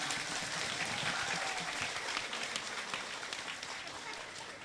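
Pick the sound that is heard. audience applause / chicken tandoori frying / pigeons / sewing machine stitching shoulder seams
audience applause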